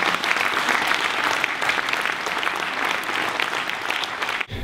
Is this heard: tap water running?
no